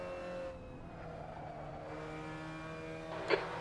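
A Mazda MX5 runs laps at Suzuka East in a racing game, its engine a steady, moderately loud drone with the pitch shifting as the throttle is worked, ending with a brief bump of noise.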